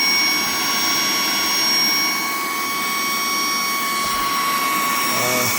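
A Portronics wired and wireless car vacuum cleaner runs continuously with a steady high-pitched motor whine and airy rush, loud and close, ending with a brief click as a button is pressed.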